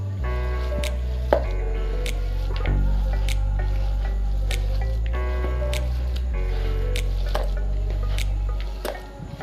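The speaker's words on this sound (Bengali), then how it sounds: "এটাকে হাত দিয়েই মেখে নেব, ভালো করে চটকে এটাকে মেখে নিতে হবে।" Wet, squishy mashing of a chicken snack mixture being kneaded by hand, with repeated soft squelches and occasional sharper sticky slaps, close and fairly steady throughout.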